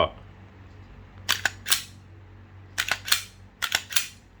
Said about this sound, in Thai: เคลียร์ปืนก่อนนะครับ